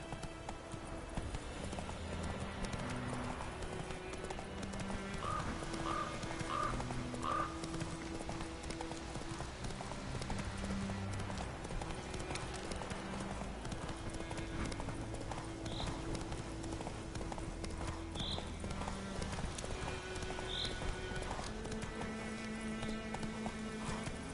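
A horse in The Witcher 3: Wild Hunt gallops at a steady pace, its rapid hoof clip-clops continuous and even throughout, with an occasional faint whinny and a low background music bed.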